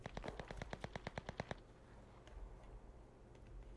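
Rapid automatic gunfire in the battle royale game Cuisine Royale, a burst of about a dozen evenly spaced shots, then a quieter ambient tail.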